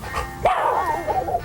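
A man imitates a dog, giving one short, loud, close bark that slides into a whining, whimpering yelp.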